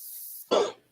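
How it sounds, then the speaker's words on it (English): One sharp, close cough bursts out after a brief hiss and fades quickly. "I'm having a coughing fit."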